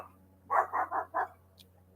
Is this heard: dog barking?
yes